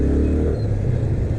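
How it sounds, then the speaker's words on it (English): Yamaha FZ25 motorcycle exhaust note caught in a brief loud rev that swells and then settles back into a steady low rumble, heard close and without any talk. "dropping a couple of rev bombs over there,"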